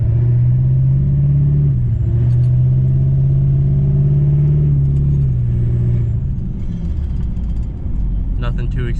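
A stock-tuned pickup truck with an LB7 Duramax diesel cruising light to light in town: steady low engine drone and road rumble with a gentle rise and dip in pitch as it accelerates and eases off, heard from inside.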